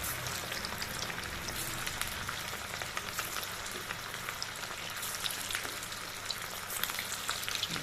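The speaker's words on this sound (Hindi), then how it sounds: "धीमी आंच पर ही हमको सेकना है, जिससे ये अंदर तक सिक जाए" Lauki kofte (bottle gourd dumplings) fry in a pan over a low flame, giving a steady, even sizzle with fine crackling throughout and no one speaking.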